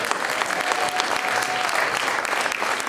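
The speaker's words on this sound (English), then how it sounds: "Can we give another round of applause to all our performers today?" Audience at a Celebration of Nations cultural performance event in Franklin applauds the performers, a dense, steady wash of clapping from a crowd that holds evenly for a few seconds.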